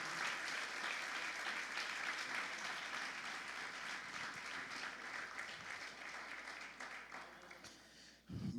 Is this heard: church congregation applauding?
yes